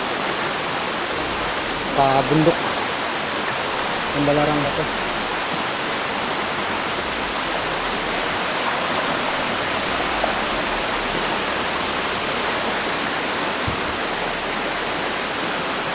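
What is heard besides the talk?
river water flowing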